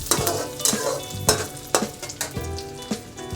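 Chopped garlic and finely cut ginger fry over low heat in a pan, giving a steady close sizzle broken by sharp scraping stirs of a spoon at an irregular rhythm, with no voices.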